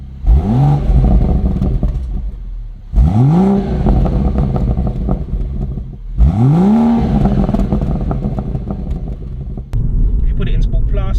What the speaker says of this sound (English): give it revs and it pops